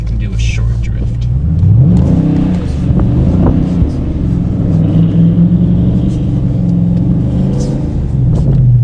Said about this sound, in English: Okay, I can do a short drift.